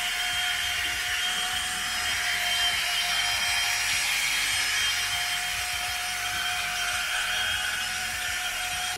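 A hammer drill polishing an arcade cabinet screen gives a steady, high, abrasive whine that holds unbroken at close range, with no voices.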